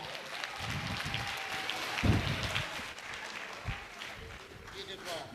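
An audience at a TeachCamp education event applauds, a moderate, fairly distant wash of clapping that carries on steadily, with a few louder thumps and voices mixed in.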